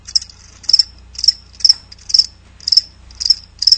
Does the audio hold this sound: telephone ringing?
no